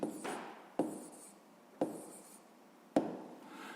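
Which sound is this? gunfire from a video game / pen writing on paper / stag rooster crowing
pen writing on paper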